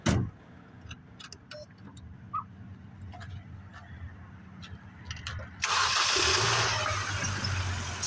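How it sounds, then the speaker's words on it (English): A 2005 Mini Cooper 1.6 16-valve engine with a 3-inch intake pipe and cone filter cranks with a ticking starter, then catches and settles into a loud, close idle, after a few faint clicks and brief background talk. "You want to fire this beast up so I can hear it go rah, rah."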